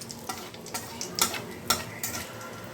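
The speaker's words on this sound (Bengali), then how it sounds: "এবার ফোড়নটা একটু ভালো করে ভেজে নেব।" A bay leaf and nigella seeds fry in mustard oil, a soft sizzle under a regular series of stirring scrapes and light taps of a spoon against the pan, close-up and quiet, with no talk.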